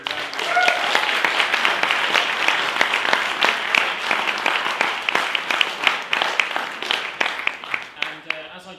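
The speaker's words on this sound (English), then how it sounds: "And I think they deserve a round of applause." An audience at a political economy lecture applauds together, a sustained roll of many hands clapping with distinct sharp claps standing out, tapering toward the end.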